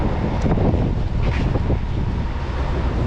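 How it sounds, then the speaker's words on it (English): Steady wind buffets the microphone on Mission Street in San Francisco, a constant low roaring rumble with no pauses. "It's a little windy today, so hopefully this video won't be that bad."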